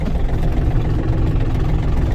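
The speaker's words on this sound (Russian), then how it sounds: "Вот такой трактор Yanmar" A Yanmar AF230 mini tractor with a large cab runs its engine, a loud, steady low rumble close by with no breaks and no talking.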